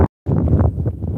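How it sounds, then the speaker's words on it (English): Gusty wind buffets the microphone outdoors on a hike near caves, a loud rumbling roar that drops out briefly before surging back and continuing unevenly. "It's getting windy now."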